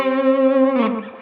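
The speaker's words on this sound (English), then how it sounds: "So here's what that sounds like on the neck pickup." An electric guitar played on the neck pickup with the pick resting between the two pickups rings out a single sustained, distorted note with a heavy effect, close and loud, fading after about a second.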